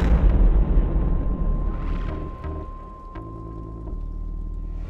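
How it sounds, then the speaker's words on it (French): Heavy booming blasts and rumbling impacts from explosions during the Russian invasion of Ukraine, loud and close with low thuds and a sustained roar, a faint tone running underneath. "Au son des sirènes stridentes et des explosions"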